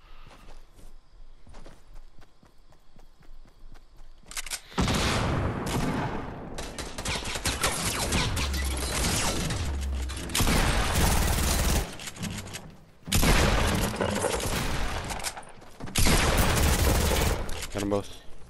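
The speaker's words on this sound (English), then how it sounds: "I'm getting shot in the back." Video game gunfire erupts in long, dense volleys of loud shots with brief gaps between bursts, preceded by quieter footsteps and ambient game noise.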